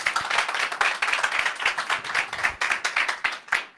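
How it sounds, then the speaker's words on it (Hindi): Audience clapping at a Hindi-language religious gathering, steady dense applause with rapid overlapping claps that swell and dip in waves, fairly close and loud, with no talk over it. "एक बार फिर से ताली बजा के प्रभु को महिमा।"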